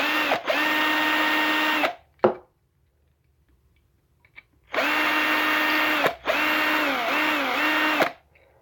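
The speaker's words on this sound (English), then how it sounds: "I still need to drill these out a little bit more on these ones" A small power drill whines in two bursts, boring out the rivets of a 1:64 diecast car, with a high motor tone that dips under load, separated by a quiet pause and a few small clicks.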